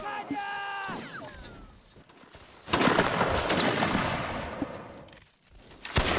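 Musket fire in the Napoleonic Wars mod of Mount & Blade Warband, with a rising musical tone at first, then a loud ragged volley of overlapping shots that rolls on and fades before another crack at the end.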